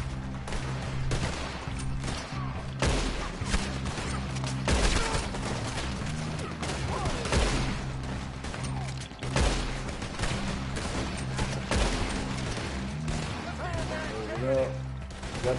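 A Gatling gun firing in Red Dead Online, dense rattling bursts of rapid gunfire that keep going steadily the whole time, mixed with other shots and impacts under occasional talk.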